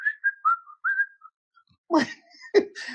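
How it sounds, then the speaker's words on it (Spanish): A short whistled tune of a few bright notes, close and clear, followed by a couple of brief noisy breaths or rustles. "Tema numero 1 con un silbido."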